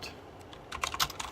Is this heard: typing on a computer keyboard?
yes